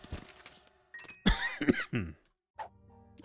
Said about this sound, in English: Sorry about the cough too.